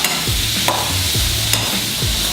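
Bacon stir-fried in a hot pan for a seafood-noodle dish, with a steady sizzle broken by three rhythmic scraping stirs of a spatula. No one speaks.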